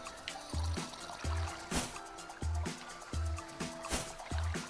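Water sounds in the video game Super Exploding Zoo, with rhythmic splashes and bubbly plops repeating about every second over a faint game music bed.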